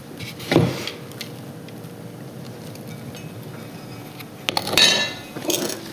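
A spoon scoops potting soil into a sizable planter pot with a few scraping, clinking strokes, one near the start and a cluster near the end, separated by a quiet stretch.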